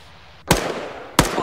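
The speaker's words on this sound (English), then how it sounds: "Be advised, I think he threw a nade." Two sharp, loud explosive cracks from a grenade in the military video game Arma 3, about three-quarters of a second apart, each with a short ringing tail.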